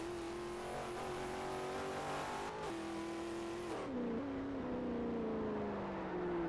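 A 2012 Hennessey Venom GT in the Forza 4 racing game holds a loud, sustained engine drone at high speed, dropping in pitch through gear changes and braking, with faint tyre noise and no talk.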